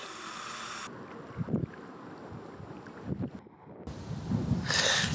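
Wind blowing across Lake Ogwen in North Wales, a steady broad rush buffeting the microphone with louder gusts and rumbles, alone without talk.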